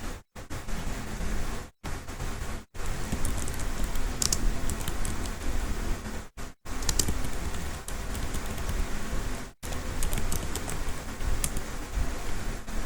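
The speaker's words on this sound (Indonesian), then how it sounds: "ketik perintah show MAC address table lagi dan tekan enter" Keys clatter steadily on a computer keyboard as a network switch command is typed, a continuous dense run of clicks broken by a few short pauses, finishing with an Enter press, close up and with no talk.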